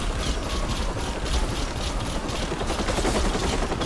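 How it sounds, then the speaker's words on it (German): A helicopter in the video game Watch Dogs gives a dense, continuous rotor roar mixed with rapid gunfire-like clatter, loud and unbroken throughout. "Und der Heli ist wieder da."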